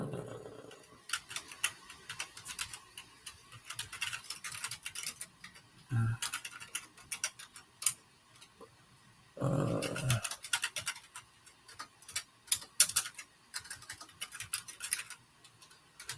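Typing on a keyboard to enter a folder path while connecting data in Power BI, scattered irregular clicks and short flurries of keystrokes at moderate level with pauses between, faint room noise and no clear talk.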